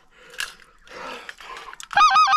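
Specklebelly geese give a few honking calls near a hunting blind in Alberta, with rustling first and then a sudden burst of loud, repeated, yelping honks at the end.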